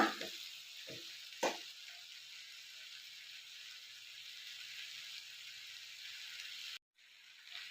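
Onions frying in a pan for egg gravy give off a soft, steady sizzle throughout, with a few sharp clinks near the start and a brief dropout near the end.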